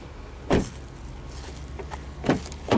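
Electric power windows on a 2014 Volkswagen Jetta MK VI, two short motor whirs with a clunk as the glass stops, heard close over a quiet hum inside the car.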